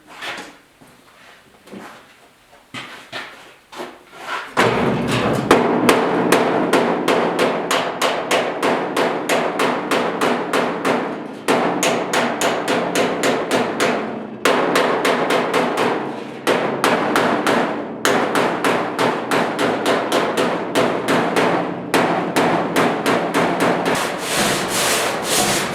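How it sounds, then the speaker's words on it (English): Metal hammering on the side of a 1972 Ford 4x4 short box truck bed: after a few quiet seconds of handling, rapid loud blows ring out in long rhythmic bursts with brief pauses between runs. "Got a couple high spots here I think I'm gonna pound those in."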